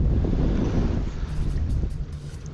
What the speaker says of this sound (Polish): czuję jak wiatr przez te warstwy moje wszystkie do skóry przeszywa mnie